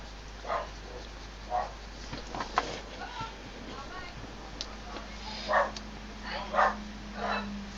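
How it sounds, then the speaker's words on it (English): A dog barks outdoors at a distance, several separate short barks spread out over the stretch, faint beneath a person talking in a quiet room. "Sorry about the bark alert."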